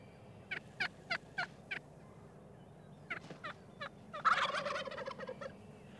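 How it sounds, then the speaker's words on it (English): Eastern wild turkey gobbling outdoors: a run of four or five short sharp calls, then after a pause a few more, building into a longer loud rolling gobble, clear against quiet background. "A gobble can be heard up to a mile away"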